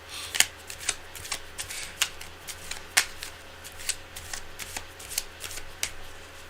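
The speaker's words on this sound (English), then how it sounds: "Now, cards are well shuffled." A deck of tarot cards shuffled by hand, a steady run of crisp riffling flicks repeating about every half second, close and continuous with no talking.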